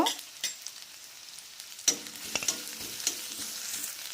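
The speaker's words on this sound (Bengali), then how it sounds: "মিডিয়াম সাইজে দুটো পেঁয়াজকে কেটে নিয়েছি তেলের মধ্যে দিয়ে দিলাম নাড়ব" Two chopped medium onions frying in about two spoons of white oil in a pan, a steady sizzle broken by scraping stirs of a spoon, with louder clatters near the middle and end.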